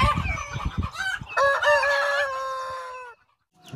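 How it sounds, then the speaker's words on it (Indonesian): A chicken clucks in short bursts, then lets out a long, loud crowing call close by that cuts off abruptly. "ternyata ini ayam"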